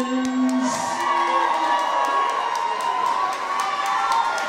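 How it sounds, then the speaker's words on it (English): Live crowd cheering and whooping at a packed King of the Ring fight event, a dense steady roar of many voices throughout, loud and continuous with no clear breaks. "Packed house tonight, live crowd, awesome energy"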